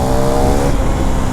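A KTM Duke 390 Gen3 motorcycle engine accelerating hard, a loud, continuous, close-up drone with steady engine harmonics that holds for the whole stretch, with no talking.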